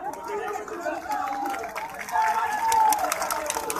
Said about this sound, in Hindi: बढ़ती हुई भीड़ को संभालने के लिए पुलिस मशक्कत कर रही है।